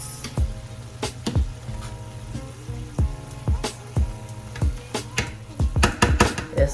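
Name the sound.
saltfish frying in a pan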